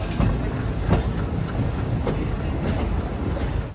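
Steady rumble of a moving overnight train to Nandyal from inside, with rhythmic clicks of wheels over rail joints beneath the low roar.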